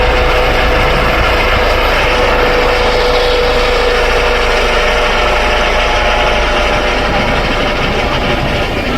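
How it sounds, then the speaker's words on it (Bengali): A helicopter flies over a beach in Shenzhen, its loud, steady engine roar filling the air without a break, with no voices. "এই যে দেখেন অনেকে আছে এখানে হেলিকপ্টার রাইড করে"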